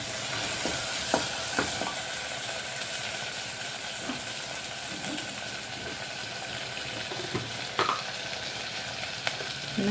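Chopped onion and half a tomato sizzle in a hot pan as beetroot rice is made, with a steady bright hiss and occasional soft scrapes and clinks of a spoon stirring them.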